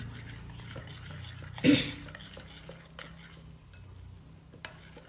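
A spoon stirs a batter of spinach and egg in a bowl, soft scraping and swishing repeated over several seconds, with one louder clink of utensil against the dish.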